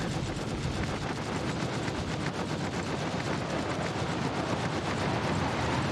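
A torpedo striking a spaceship in the Star Citizen space combat game, a loud dense roar of rapid crackling blasts and rumble that holds steady without a break.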